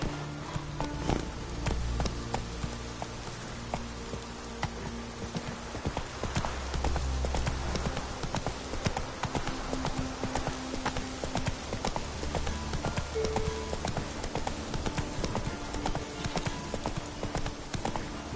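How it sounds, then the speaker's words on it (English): The horse Roach gallops in The Witcher 3 video game, with steady rhythmic hoofbeat clip-clop running throughout under a layer of game music and ambience. "Run, Roach"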